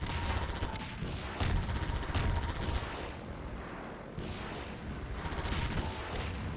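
Rapid bursts of gunfire in Half-Life 2, a dense run of overlapping shots that keeps going steadily at a fairly loud level, with a low rumble under it the whole time.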